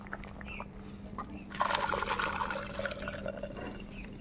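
Boiled figs and their cooking water are tipped out of a pot. After a quiet start, a soft pour splashes for a couple of seconds, then tapers to a faint trickle.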